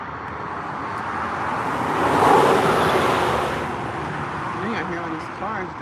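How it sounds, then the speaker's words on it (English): Cars drive by on a road at sunrise, a continuous distant hum of traffic that swells as one vehicle passes midway and then settles back to a steady rush. "Now I hear all these cars driving, right?"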